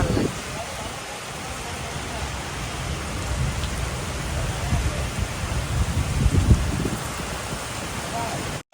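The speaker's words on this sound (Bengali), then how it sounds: "কি বৃষ্টি আসছে" Heavy rain pours over a road in the dim, dark early evening, a dense continuous hiss and patter that swells slightly over the seconds, with voices faintly present.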